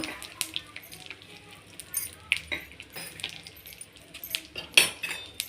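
Garlic, coriander seeds and curry leaves being stirred in hot oil in a pan, with irregular metallic spoon clinks and scrapes over a soft sizzle, close by, with a voice talking at times.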